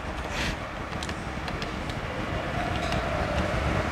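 Strong wind roars across the microphone outdoors at a futsal match, a steady, dense, broadband rush lasting throughout with faint gusty surges and no clear voices.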